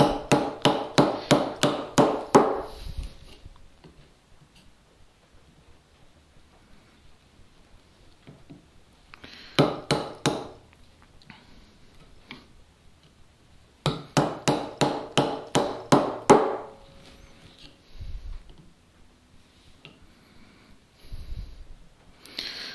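Mallet blows on a chisel cutting a mortise in crumbly, poor quality wood for a workbench, struck in three quick rhythmic runs of about eight to ten sharp close knocks each, with quieter pauses and soft scraping between.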